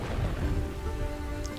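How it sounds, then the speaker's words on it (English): Steady rain pours during a thunderstorm in the city-building game Kingdoms and Castles, a close, dense hiss with a low rumble of thunder underneath, continuous throughout. "in the middle of a thunderstorm with lots of rain."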